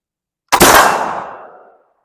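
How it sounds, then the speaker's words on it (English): American long rifle fired with a set trigger, a single loud close blast with a sharp attack and a long decaying tail of echo, following silence and with no talking. "All right, now I'm ready to shoot."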